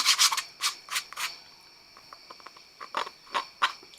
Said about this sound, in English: just getting glue bits off of it